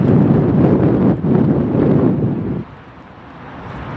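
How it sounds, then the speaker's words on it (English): Gusting wind buffets a microphone at Tampa Airport, a loud rumbling roar that surges, dips briefly, then drops to a quieter rush after a few seconds. "Again, these winds are gusting."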